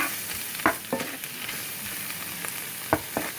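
Mushrooms and onions seasoned with salt and pepper sizzle quietly in a pan, with a few distinct scrapes and clacks of a utensil stirring them.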